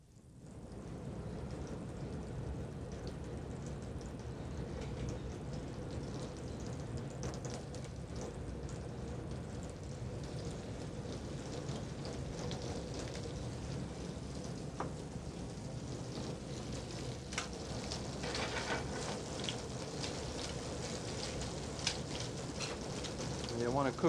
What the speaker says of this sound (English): The salmon is sautéed in butter.